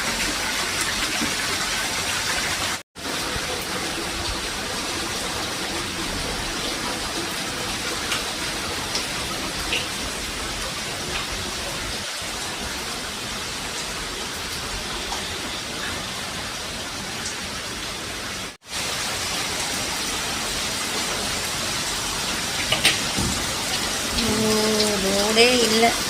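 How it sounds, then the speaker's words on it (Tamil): Heavy rain pours steadily in Sivakasi with water flowing and pooling over a flooded road, a loud, even wash of rainfall hissing close by throughout, with faint talk near the end. "எவ்வளோ தண்ணி போகுது பாரு பப்பி"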